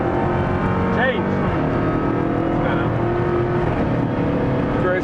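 Dodge Charger Hellcat engine roaring at sustained high speed on the Yas Marina race circuit, a steady loud drone with shifting pitch through corners, while people talk inside the car over it.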